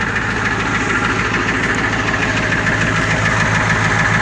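A 1993 Ford F350 welder-body truck with a non-turbo indirect-injected 7.3 diesel idles close by, a loud, steady clattering rumble with a rapid even knock and no pause.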